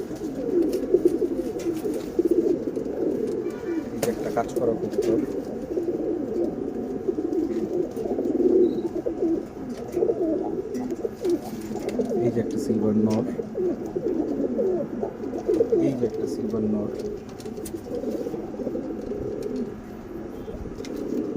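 Pigeons coo continuously in a low, throaty, rolling chorus, fairly close, while someone talks intermittently over them.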